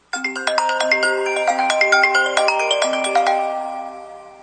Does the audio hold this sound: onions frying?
no